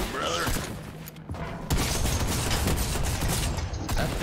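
Gunfire in a shooter video game comes in dense bursts of rapid shots mixed with mechanical clicks and clanks, loud and continuous throughout.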